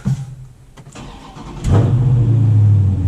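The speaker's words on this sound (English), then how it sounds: "in the car, cold start time" A 2020 Dodge Challenger with a 6.4 Hemi and stock exhaust cold-starts up close, with a brief crank and then a loud catch into a deep, rumbling high idle that holds steady. No one speaks.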